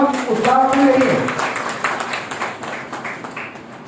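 Applause for a speaker at a community gathering: a burst of clapping from a crowd that swells, then fades over a few seconds, overlapping with a voice speaking at the start.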